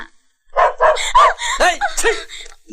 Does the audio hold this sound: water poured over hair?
no